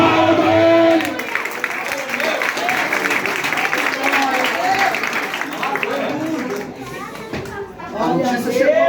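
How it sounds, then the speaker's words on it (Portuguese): Applause from a church congregation mixes with crowd chatter and voices throughout, the clapping broad and steady rather than crisp. "Aplauda ele."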